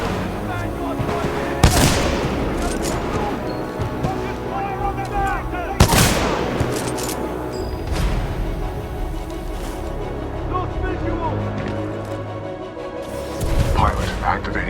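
Heavy supporting gunfire in Titanfall 2, with sharp booming blasts over a dense, continuous barrage of shots and explosions, and game voice dialogue running through it.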